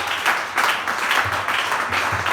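A church congregation applauding the Lord during a miracle and healing service, rhythmic group clapping in steady pulses, fairly close and lively, with faint voices mixed in.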